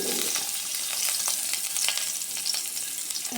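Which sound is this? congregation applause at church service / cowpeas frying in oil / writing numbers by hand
cowpeas frying in oil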